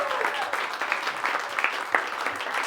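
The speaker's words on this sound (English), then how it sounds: "give a quick cheer for Luana for planning such an amazing day" Wedding guests applaud loudly for Luana, a dense burst of clapping with a few cheers mixed in, sustained at close range throughout.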